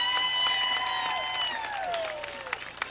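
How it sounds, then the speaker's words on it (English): A crowd at the Ashford vs Headland high school football game applauds steadily for several seconds, with sustained tonal notes sounding over the clapping. "y'all please give him a round of applause"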